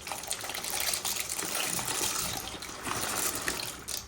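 Water from a pot heating for macaroni on a home stove gushes and splashes steadily and loudly, close by, with no talking.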